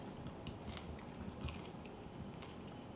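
Someone bites and chews crispy, chewy, tangy sourdough bread up close: soft crunches and mouth sounds in a quiet room, with no talking.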